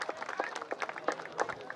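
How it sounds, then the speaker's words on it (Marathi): Faint, distant crowd clapping in quick uneven bursts, welcoming guest wrestler Monu Sherawat, a Haryana Kesari champion, with no voices on top. "आपल्याकडे पाहुण्यांचं स्वागत टाळ्या वाजून केलं जातंय"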